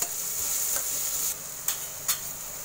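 Potatoes sizzle in a pan as salt is stirred in, a soft, even frying hiss broken by a few sharp spoon scrapes and taps toward the end.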